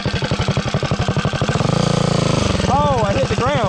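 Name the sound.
40HP mini bike engine running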